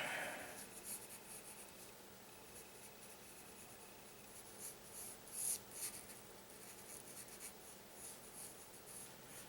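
A pencil scratches across paper while sketching a cartoon gnome, a soft continuous rasp with brief louder strokes, close and quiet with no talking.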